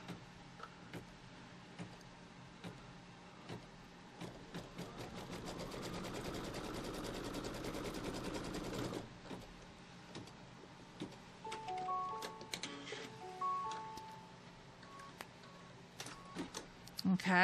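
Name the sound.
embroidery sewing machine stitching a line on the quilt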